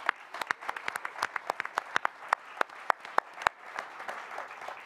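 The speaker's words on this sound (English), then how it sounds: "Give yourselves a round of applause." An audience at a mayoral debate applauds, with close, crisp individual claps sharply punctuating a softer wash of clapping across the whole stretch.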